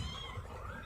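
A kitten meows softly and close by in an indoor home setting, a short mewing call over low background noise.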